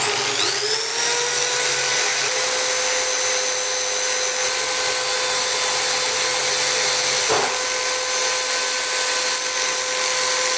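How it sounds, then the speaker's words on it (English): Sandpaper rubbing against a plasma cutter tip to clean it, a continuous loud abrasive hiss with a steady whine under it and a short scrape partway through, no voices. "I'll try it with a bit higher grit sandpaper, guys. Try and take a bit more off it."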